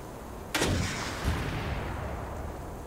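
An RPG-7 rocket launcher fires in the online stalker game Stay Out: one loud sharp blast near the start, followed about 0.7 seconds later by a second, softer bang.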